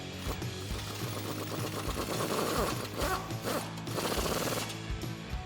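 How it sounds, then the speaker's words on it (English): A ratchet with an 18mm socket tightens a bolt on a Jeep Wrangler JL suspension lift, giving a steady, fast clicking pawl run that carries on through the whole stretch without pause, close and fairly loud, with no voices. "I am going to tighten that down with an 18mm socket"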